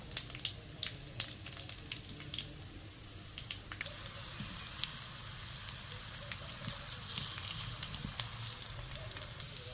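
Cucumber vadis sizzle and crackle in hot oil with mustard seeds, cumin and curry leaves, a steady close frying hiss with scattered pops and spits, and no voices.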